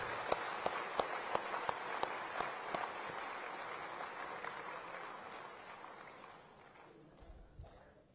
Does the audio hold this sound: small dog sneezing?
no